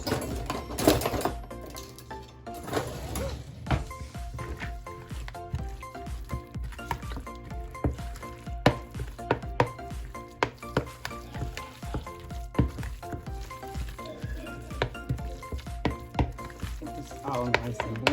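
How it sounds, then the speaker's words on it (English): A spoon stirring a thick broccoli, cauliflower and jalapeño casserole mixture in a bowl, producing steady wet scraping and clinking strokes close up, with occasional speech. "I'm gonna stir this."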